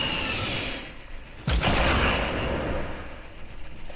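A single sharp shot in Fortnite cracks out close and loud, with a brief echoing tail, set against steady game background noise.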